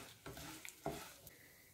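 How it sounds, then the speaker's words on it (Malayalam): Asafoetida and turmeric stirred into hot oil in a pan for tamarind rice: a few faint spoon scrapes over a soft, low sizzle, close and brief, with no talking. "അതും കൂടെ ഇളക്കുന്നു."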